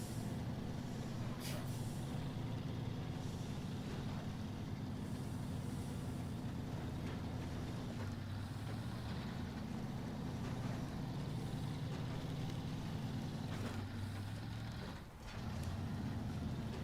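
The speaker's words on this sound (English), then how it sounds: "Boy, the Fleet Star is really a lot better than they give her credit for." A Fleet Star truck in SnowRunner drives along with a constant heavy low engine rumble, with occasional brief hiss and clunk bursts and a short dip near the end.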